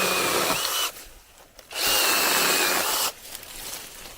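A small 6-inch chainsaw prunes redbud and walnut tree limbs, its motor revving in two loud, close bursts separated by quieter idling dips.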